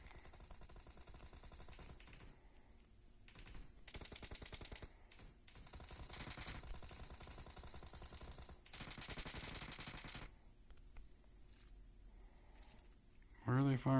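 Rapid, continuous machine-gun-style gunfire rattles in a video game, arriving in long bursts broken by short gaps. The fire sits at a moderate level over a constant background bed, with a brief louder tonal sound near the end.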